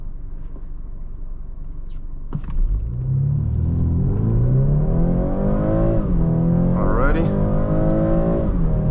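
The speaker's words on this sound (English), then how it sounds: "I pressed it maybe halfway down and then added full throttle." A 2023 BMW 430i xDrive Convertible pulls away at full throttle, its engine rumble climbing steadily in pitch through the gears, heard from inside the cabin. A brief spoken word comes before the run.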